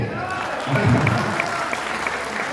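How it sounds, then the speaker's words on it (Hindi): Audience applause at a poetry gathering (kavi sammelan) at Bundelkhand University, Jhansi: a steady wash of clapping throughout the short stretch, moderately loud and even. "ताली बजाइए।"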